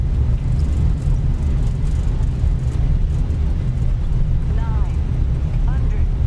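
An Airbus A321 slowing on its landing rollout, a steady loud low rumble of engines and runway noise filling the cabin or cockpit, with brief chirps near the end.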